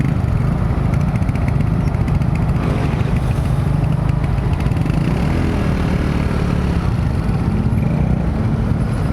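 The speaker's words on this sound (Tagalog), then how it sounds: "Sobrang traffic, ano kaya nangyari?" A motorcycle engine idles and revs in heavy traffic on the way to a market, a steady close low rumble that runs throughout with other vehicle noise around it.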